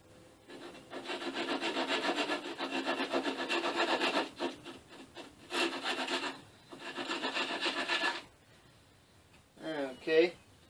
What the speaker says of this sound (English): Going to try to cut off the excess here.